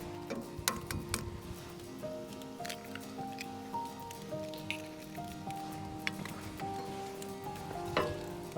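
Eggs sizzle and crackle faintly in a skillet over a campfire, a soft irregular frying hiss with scattered sharp pops and scraping taps, while music plays quietly underneath.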